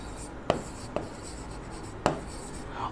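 Writing on a classroom board with scattered soft strokes and three sharp taps of the writing tool hitting the surface, close and moderately quiet, with no speech.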